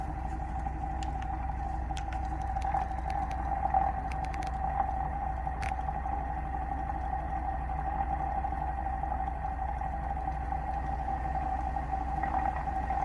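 A magnetic switching motor runs at about 725 RPM with a steady low hum and a constant tonal whine, plus faint intermittent ticks and clicks; no talking.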